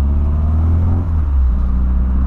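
A 1985 Volkswagen Voyage drives along a street, its engine giving a loud, steady low rumble with a slight dip midway and no voices over it.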